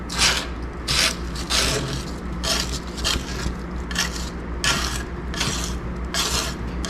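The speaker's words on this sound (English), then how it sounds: "We're just gonna scrape all this into the trash." Debris is scraped off a skid steer into a trash can, a rhythmic series of rough, gritty scraping strokes about once a second over a low mechanical hum, close and fairly loud, no talking.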